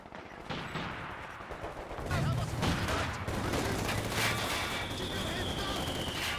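Heavy mortar and other artillery from a Company of Heroes 2 battle fire in repeated booming blasts over constant rumbling gunfire, with a voice talking underneath throughout.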